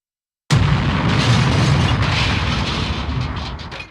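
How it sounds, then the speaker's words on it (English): A car crash sound effect: a sudden heavy booming impact followed by a dense, rumbling roar of debris that slowly fades over a few seconds, loud and alone. "The next sound is the sound of a car crash."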